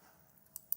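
Two quick, crisp computer mouse clicks sound close together, soft and near against a quiet background.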